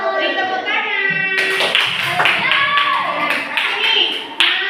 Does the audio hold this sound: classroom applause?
yes